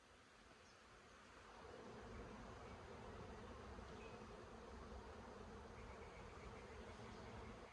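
A dense swarm of bees buzzes continuously during a bee removal, a steady, close drone that swells a little after the first couple of seconds and then holds.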